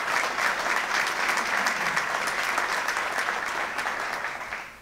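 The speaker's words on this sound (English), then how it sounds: "Let's give the faculty, staff, and students a great round of applause here at the LSU College of Engineering." Crowd gives a warm round of applause for faculty, staff and students at an LSU College of Engineering groundbreaking ceremony, dense sustained clapping that fades toward the end.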